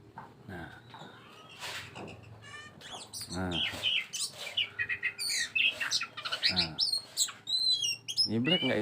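A kacer, or magpie-robin, sings close and loud in a rapid run of sweet chirps, whistles and trills that grow busier toward the end, with low background hum and brief moments of a person talking.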